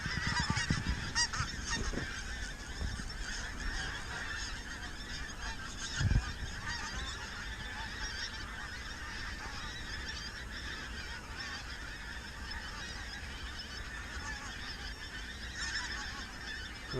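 Pink-footed geese honk close by on a frosty morning, a dense, continuous chorus of overlapping calls from a large flock, steady and near throughout.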